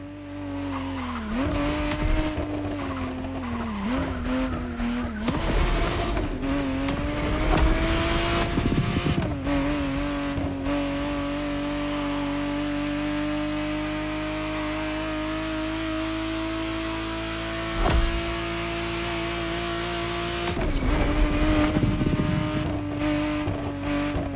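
Ferrari 512 TR, the 1991 re-engineered Testarossa, driven in The Crew Motorfest, its engine droning loud and steady with rising revs, shifts and bursts of tire squeal near the start and end.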